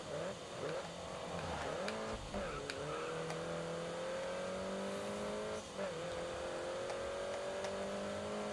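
In Grid Autosport, a race car's engine revs hard and climbs steadily through the gears, with brief dips on shifts and a faint tyre squeal, loud and continuous.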